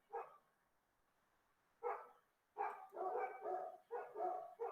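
Dogs bark in short bursts: a single bark, a pause, another, then a rapid run of barks, moderately near and clear with no talking.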